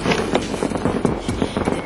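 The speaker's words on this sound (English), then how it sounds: "He loves fireworks." Fireworks going off outside on New Year's night, a dense, steady crackle of bursts and pops with several sharper bangs spread across the whole stretch, fairly loud and continuous.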